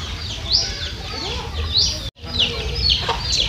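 Chickens cluck and chirp in a rapid run of short, fairly loud calls close by, broken by a brief dropout partway through.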